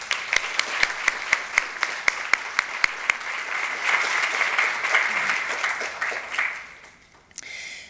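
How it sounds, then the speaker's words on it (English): An audience applauds at a health update event, starting with a few sharp individual claps that build into steady, moderately close clapping before fading out. "I think a big clap for that"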